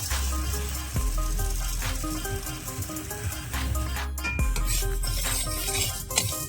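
Moong dal dry-roasting in a hot pan, a soft sizzle with scraping and clinking of a utensil against the metal, close and steady without talk.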